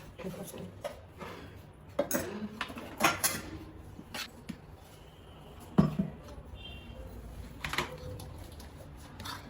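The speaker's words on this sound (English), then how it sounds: "So mix everything with the spoon." A spoon scrapes and clinks against a metal bowl while homemade garam masala spices are mixed, giving irregular close taps and rattles with brief pauses and a low background murmur.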